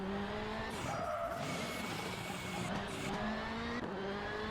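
A rally car takes a hairpin on a stage of the Rally Velenje round of the Eastern European Rally Championship, its engine note rising and falling with tire noise through the turn, loud and continuous with no talk.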